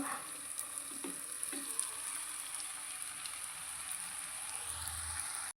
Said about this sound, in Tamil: மீனை வந்து கரண்டியால் நல்லா உதுத்து விடுங்க